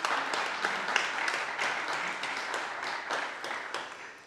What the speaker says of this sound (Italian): credo che saluteremo con un applauso la nostra Presidente onoraria